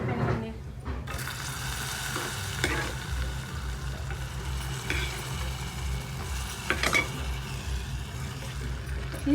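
Bread sizzles steadily as it fries in a pan for a sweet, with a continuous hiss and occasional scraping of a spoon as it is stirred, and no voices over it.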